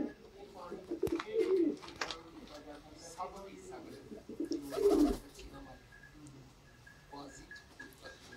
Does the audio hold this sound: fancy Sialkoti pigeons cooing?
yes